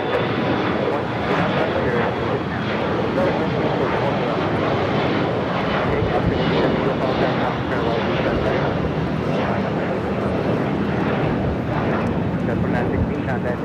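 Korean Air airliner on short final to runway 24 right at LAX, a broad steady engine roar holding loud and even throughout, with no break or fade.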